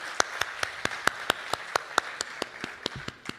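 Crisp, evenly spaced claps ring out at a steady quick beat over a quieter wash of clapping from the audience at an international mushaira and Kavi Sammelan poetry gathering in Bahrain.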